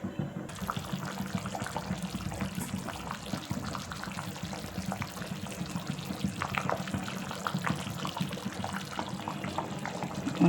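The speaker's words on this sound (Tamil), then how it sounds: "தீயை வந்து கூடுதலாகவே வச்சுருக்கேன், கொதிச்சு வேகட்டும்." Fish curry in a pot on a high flame, half-covered with a plate, bubbling with a steady dense liquid gurgle and simmering crackle throughout, close and continuous with no talk.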